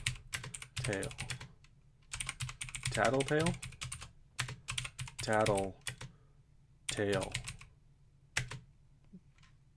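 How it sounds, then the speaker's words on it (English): Rapid typing on an E-Blue K727 mechanical keyboard in uneven bursts, close by, with a person speaking briefly over the clatter. "This is me typing"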